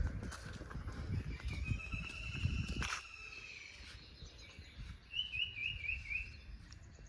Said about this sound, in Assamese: জাষ্ট চৰাইৰ মাত আৰু নীৰৱ নিস্তব্ধ